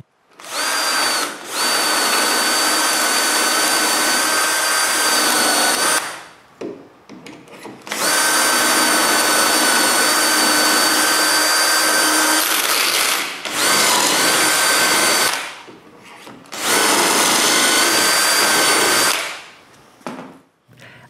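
A power drill bores dowel holes in wood through a doweling jig, running in three long steady whining bursts with short pauses between, loud and close.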